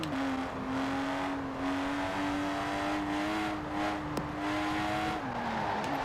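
Lotus 3-Eleven engine in Forza Horizon 4, a loud, steady sustained drone holding a near-constant pitch with a brief shift near the end, alone and close.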